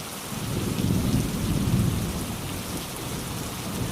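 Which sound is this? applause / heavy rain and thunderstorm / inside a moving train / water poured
heavy rain and thunderstorm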